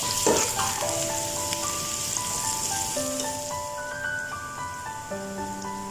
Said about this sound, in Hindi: बहुत ज़्यादा इसको नहीं करना है, बस हल्का सा ही फ्राई करते हैं प्याज को